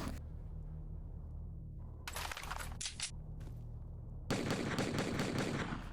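Automatic pistol fire in the shooter game S.T.A.L.K.E.R. Anomaly: a short burst of rapid shots near the middle, then a sustained loud volley of fully automatic fire over the last couple of seconds, with a low ambient hum throughout.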